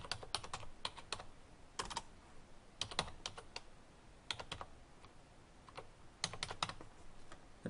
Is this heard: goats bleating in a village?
no